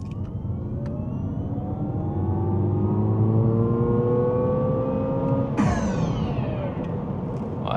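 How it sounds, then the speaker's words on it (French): Electric Alpine A290 GTS hot hatch pulling away from a standing start on a quiet country road, its rising motor whine climbing steadily over road and wind roar for several seconds, with a sharp shift in tone near the end. "J'essaie de faire un départ arrêté pour voir, là, sur cette petite route de campagne."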